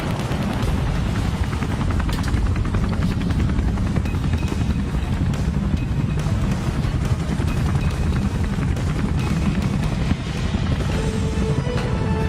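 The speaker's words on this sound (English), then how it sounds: "helicopter is entering Marina Bay to insert the Navy's elite combat divers" A military helicopter hovers about three metres above the water of Marina Bay during a helocast insertion of navy combat divers at Singapore's National Day 2017, its loud, steady rotor thump and turbine roar continuous throughout.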